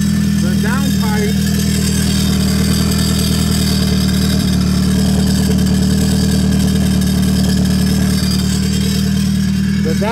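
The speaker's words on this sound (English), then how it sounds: "downpipe's rattling on the exhaust, but it's good" A turbocharged car engine idles loudly nearby, its low steady drone carrying a faint metallic rattle from the downpipe against the exhaust throughout.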